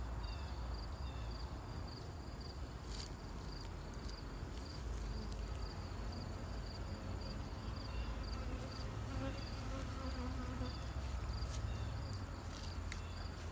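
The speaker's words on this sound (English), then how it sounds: "Most of the bees are down in the lower boxes." Honey bees buzz steadily during a beehive inspection, a dense, continuous hum close by with no talking.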